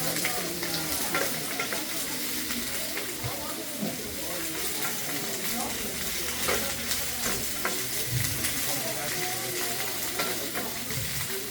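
Food frying in a pan at a farm cooking demonstration, with a dense, steady sizzle and hiss and intermittent stirring scrapes, heard up close and continuously.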